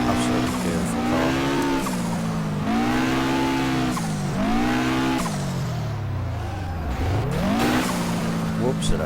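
An Audi drift car in the rFactor racing game screeches through corners, its engine rising and falling in repeated revving sweeps with long tire squeals, loud and continuous, while people talk over it.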